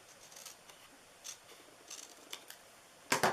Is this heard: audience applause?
no